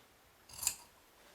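Scissors snipping through fabric along a marked pattern line while cutting out a child's two-pocket elastic-waist shorts, a single quiet cut heard alone in a still room.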